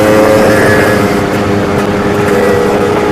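Casa Performance 'Sledgehammer' snowmobile engine roaring loud and close for a few seconds, a steady high-revving drone with a strong buzzing tone and no talk.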